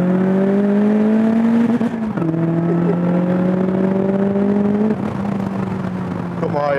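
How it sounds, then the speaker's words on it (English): A car engine bouncing off its rev limiter, a steady high drone with strong harmonics that briefly drops and cuts at the limit about twice, loud and close inside the cabin throughout. "it has quite a funny rev limiter in this as well"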